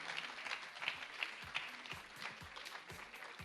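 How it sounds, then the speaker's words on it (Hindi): An audience applauds, scattered claps blending into a soft, steady patter that sounds somewhat distant. "एक बार तालियां बजाइए"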